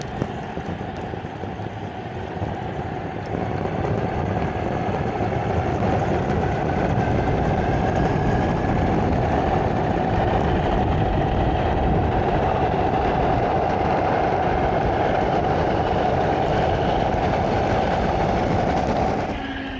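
An electric skateboard on 130mm PU sleeve wheels with CNC alloy hubs rolls over a rough road, a continuous loud rumbling roar that holds steady for the whole stretch.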